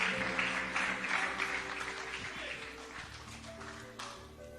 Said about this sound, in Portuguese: Aplaudamos ao Senhor.